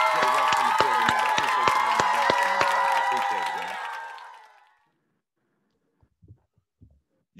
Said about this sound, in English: So I want y'all to clap it up one time for Young Freeway JRoss in the building, man